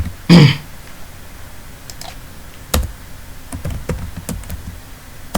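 Computer keyboard typed on during an HTML coding lesson: a short burst of separate key taps and clicks, close and moderately loud, after an early thump or throat noise, with no talking.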